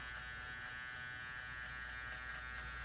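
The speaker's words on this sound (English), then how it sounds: "I'm gonna start this out with my flex trimmer." A flex hair trimmer buzzes steadily and close during a haircut, a constant electric hum with no talking over it.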